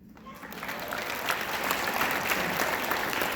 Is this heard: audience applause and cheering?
yes